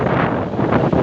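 Very strong wind buffets the microphone in a constant, loud roar with no pause, sounding like a gale outdoors near roadside traffic.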